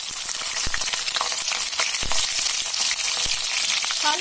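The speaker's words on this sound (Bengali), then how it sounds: "এটা একটু গরম হলে লোট্টা শুকটিটা একটু ভেজে নেব আমি।" Dried loitta fish fries in hot oil, a loud, constant hissing sizzle with scattered sharp crackles and pops, close up and with no voices.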